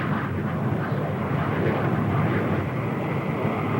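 A 1954 NATO-exercise plane approaches to land on an aircraft carrier, its propeller engine droning loud and steady throughout, with no voices over it.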